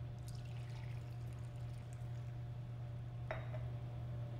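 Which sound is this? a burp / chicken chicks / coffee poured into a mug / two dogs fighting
coffee poured into a mug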